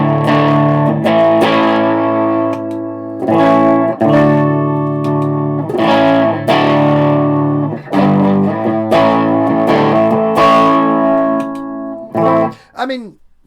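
An electric guitar with a humbucker pickup played through a TC Electronic Spark pedal with heavy distortion rings out in sustained, crunchy chords, one after another, ending with a quick bent note.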